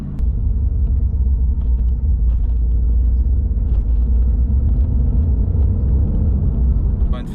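Mercedes-AMG GT R with a 585-horsepower engine held in second gear up to 70 km/h on a mountain pass descent: a steady, loud, deep rumbling drone with no talk over it.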